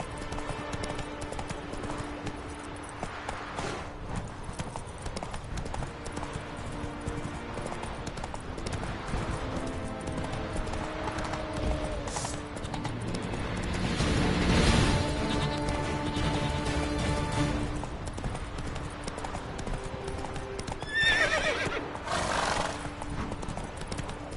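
Roach the horse in Witcher 3 gallops with steady clip-clop hoofbeats and lets out a couple of whinnies, under game music and ambient sound.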